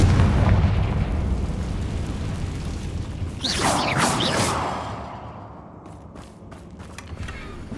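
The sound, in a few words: Confringo fire spell explosion in video game Hogwarts Legacy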